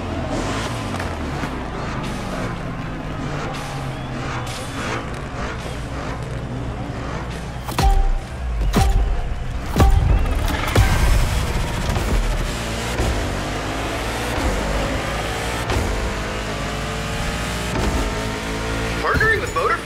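A Koenigsegg Jesko engine revs in the racing game The Crew Motorfest, roaring and surging in loud bursts with sharp spikes midway, while voices talk over it.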